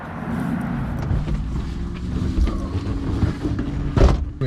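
Supercharged 1994 BMW M8 E31 with a swapped-in M5 V8 engine and loud exhaust, heard from inside as a steady low engine drone and rumble while moving, with a louder burst near the end.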